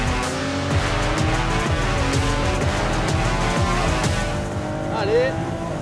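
A Ferrari 296 GTB accelerates hard on a race track, its engine note rising and roaring loudly throughout with a tire squeal near the end, under excited commentary in French.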